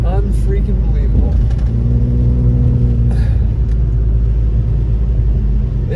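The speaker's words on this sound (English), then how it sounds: "so we're driving through Moonridge" A car drives through Moonridge in Big Bear, California, during a storm, its steady low engine rumble and road noise holding loud and continuous throughout, with some faint voices in the background.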